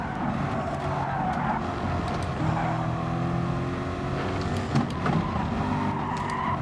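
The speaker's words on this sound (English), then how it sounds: "I just see a car jumping in front of me" Race cars in a video game driving on an Austrian track, a continuous engine drone with shifting pitch, several cars roaring close together.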